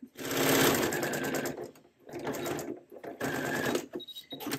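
A sewing machine stitches a fabric seam for an apron in loud bursts of rapid mechanical chattering, stopping and starting in three runs, close and without talk.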